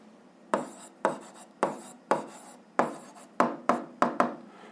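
Pen or chalk writing out a physics solution on the conservation of energy, heard as about nine rhythmic scratchy strokes, each a sharp onset fading quickly, close and distinct with no talk.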